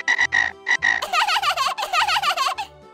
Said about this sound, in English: Oh, this is a frog.